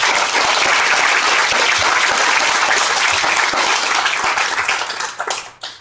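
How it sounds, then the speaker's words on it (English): Banquet audience applauding event supporters at a chamber of commerce dinner, a dense, loud wash of many hands clapping steadily for several seconds before thinning out and fading at the end. "let's give those supporters a big round of applause"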